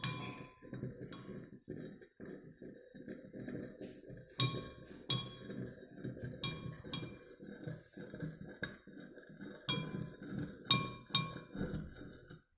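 A spoon stirs salt into water in a glass tumbler, making a run of bright, irregular clinks and taps against the glass with soft swishing in between.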